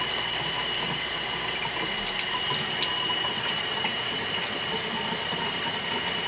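Water runs and splashes steadily over the coated fabric of a Maxpedition IMP individual medical pouch and beads off it, a continuous, fairly loud rushing stream that lasts several seconds without any speech.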